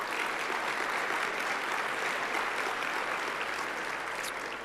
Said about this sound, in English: give a round of applause to not only our head table,